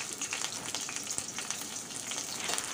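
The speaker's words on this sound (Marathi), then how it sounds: "तर एका कढईमध्ये मी थोडं तेल गरम करून घेतलेलं आहे। आता इथे आपण टाकूया थोडा कढीपत्ता," Crushed garlic and curry leaves sizzle in hot oil in a kadhai for Maharashtrian home cooking, a dense, steady crackle and spatter with no talking.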